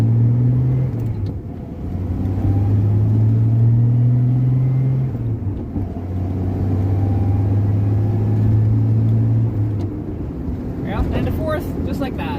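A T5-swapped Ford Foxbody pulls away under light throttle, its engine rumble rising steadily and easing briefly at each gear change, with wind noise and a voice talking over the drive.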